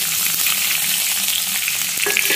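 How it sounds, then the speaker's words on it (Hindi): Onions frying in hot oil in a pan, a dense, steady sizzle with light crackle heard close up and continuous, with no voices. "अब मैं इसमें प्याज डाल दे रही हूँ"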